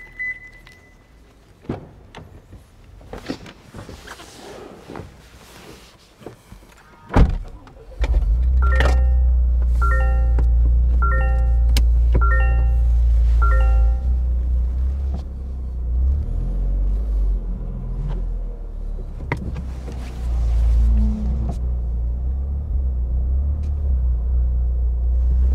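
Scattered clicks and thumps of a door and handling come first, then the engine of a Toyota GR Corolla starts and runs as a steady, close low rumble while the car is driven onto a lift, with a few chimes and small knocks over it.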